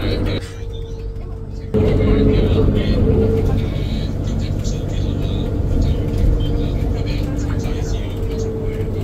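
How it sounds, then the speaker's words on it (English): Interior of a city bus in Macao, a steady low engine rumble and road noise that swells as the bus pulls away, with faint rattles throughout. "So I'm on the bus and looks pretty high tech."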